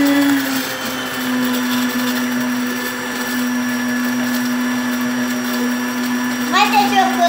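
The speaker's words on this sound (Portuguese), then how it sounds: "Liga no 1 a batedeira." An electric mixer on its lowest speed beats cold milk and powder, a loud, steady close whir that holds throughout while people talk over it.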